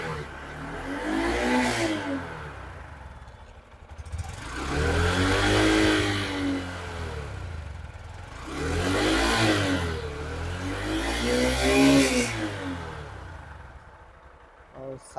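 A Honda Shine 125 BS6 OBD2 motorcycle engine is revved in three or four rising swells, each settling back toward idle. The sound is moderately loud and close.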